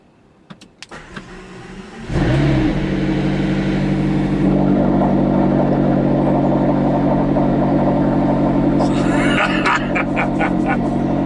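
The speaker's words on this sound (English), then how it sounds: "I'll keep the door open and do a cold start, because a cold start in here, and this is a proper cold start, is very spectacular" McLaren GT cold start from inside the open-door cabin: a few mechanical clicks and a starter whir, then the engine catches with a loud bark and settles into a steady, elevated high idle.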